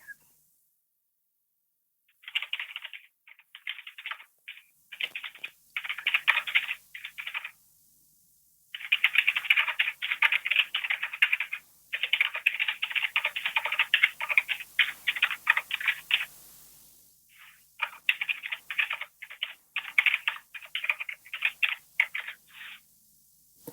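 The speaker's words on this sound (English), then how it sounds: "Is that a mechanical keyboard you're using?" Fingers clatter on a mechanical keyboard in quick bursts of crisp key clicks, running in long stretches with brief pauses between them, close and fairly loud.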